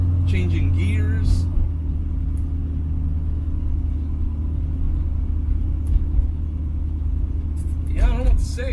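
A car fitted with ACES EFI Killshot fuel injection rumbles steadily while driving around the block, with a continuous low engine drone through gear changes, and people talking briefly at the start and near the end.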